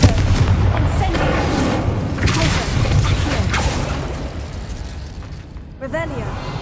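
Spell blasts from the Confringo and Incendio spells in the game Hogwarts Legacy boom and crackle loudly one after another, with rumbling fiery bursts filling the whole stretch and fading toward the end.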